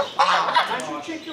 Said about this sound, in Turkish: Kazlara bakın.